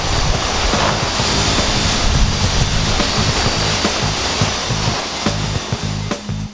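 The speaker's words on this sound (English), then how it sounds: "We're going to start off with our 1000 grit sandpaper. Get most of the oxidation off, the yellowness, and the chalkiness off the light." A BMW 325i headlight lens being sanded with 1000 grit sandpaper to remove oxidation and yellowing, heard as a loud, steady whirring and hissing that runs unbroken throughout with no speech.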